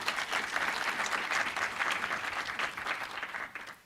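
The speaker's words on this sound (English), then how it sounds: "Let's give them a warm round of applause." An audience at a university professorial inauguration for a humanities professor claps warmly, a dense, sustained wash of applause that stays steady before easing slightly at the end, with no voices over it.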